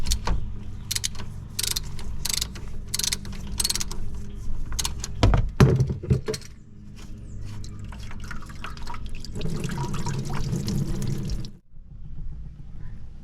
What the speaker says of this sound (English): we're just going to make a mess and let it drain out of the underbelly pan